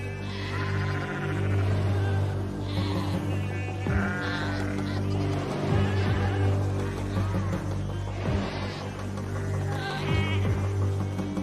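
Sheep bleat repeatedly on open farmland as wolves harass the flock, several overlapping calls rising over a steady low hum and background.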